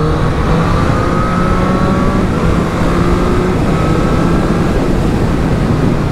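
A 2023 Triumph Street Triple 765 RS motorcycle in sport mode accelerates hard, its engine droning loud and steady beneath heavy rushing wind noise throughout, with no one talking.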